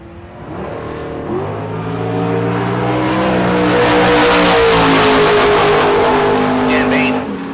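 A Firebird and a Camaro racing in a bracket drag race at the K&N Southwest Showdown, their engines loud and close as they rev and climb steadily in pitch, then hold a sustained high roar.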